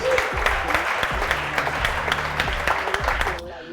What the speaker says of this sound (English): Vitran, ladies and gentlemen, huge round of applause.